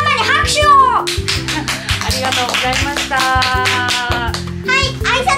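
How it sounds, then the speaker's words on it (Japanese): Children clap their hands for their mother at the end of a Daiso shopping haul, a brief burst of close, lively clapping over bright background music, with a voice mixed in. "美人ママに拍手を。"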